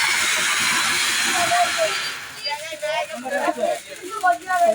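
A sparkler hisses and crackles loudly up close during Vishu celebrations for about two seconds, then dies away as people start talking.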